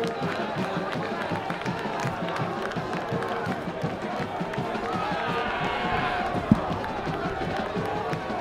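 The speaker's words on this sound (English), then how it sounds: "this student section and this Wakefield crowd is electric after that big safety" Crowd and student section at a Thanksgiving Day high school football game between Melrose and Wakefield cheering after a safety, a broad roar of voices and clapping heard under a commentator's speech, with one sharp thump near the end.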